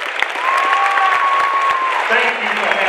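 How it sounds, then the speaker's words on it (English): Steady applause from a school audience at a Black History Month assembly for their principal, loud and sustained throughout with a brief whistle-like tone and some voices mixed in. "please give her an applause, your wonderful principal"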